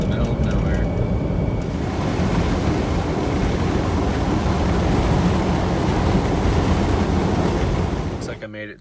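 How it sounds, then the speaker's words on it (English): Strong wind blowing on an open roadside in Vaughn, New Mexico, a loud, steady roar buffeting the microphone for several seconds before dropping away abruptly at the end. "it's super windy here"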